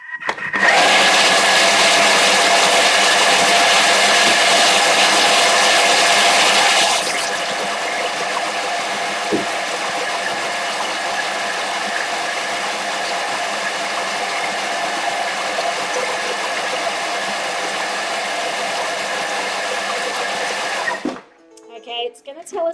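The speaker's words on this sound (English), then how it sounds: "So anyway, let's blend this up." A blender whirs loudly at high speed, puréeing gluten-free Brazilian cheese puff batter for about twenty seconds. It holds a steady motor drone that drops slightly in pitch partway through, then cuts off abruptly near the end.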